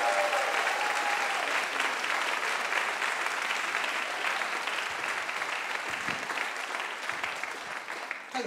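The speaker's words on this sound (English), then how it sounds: "can we give a big round of applause to Mike Howie" An audience at a school house singing competition claps in sustained, dense applause that stays loud and even throughout.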